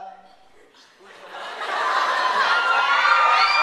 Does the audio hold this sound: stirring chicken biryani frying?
no